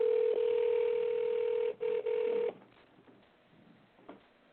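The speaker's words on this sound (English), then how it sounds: "Phone is ringing." A telephone line hums with a steady tone for a couple of seconds, briefly interrupted, before it cuts out and leaves low background noise with no speech.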